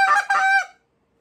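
A goose call blown in a contest-style sequence, two sharp spit notes rolled together into one quick, loud honking burst that stops abruptly, close and alone.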